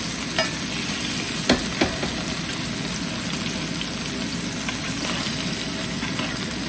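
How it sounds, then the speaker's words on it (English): A steak sizzles loudly and continuously in a cast iron skillet while being basted with butter, with faint spattering pops and a few sharper clicks over the constant frying hiss. "So just gonna let the butter base. And we're going to start basting the steak."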